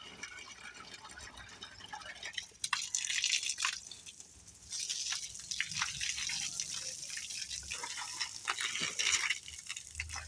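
Water is poured and splashed over a cow during bathing outdoors, with running gushes and drips that swell and ease in uneven bursts, close and fairly loud, with no talking.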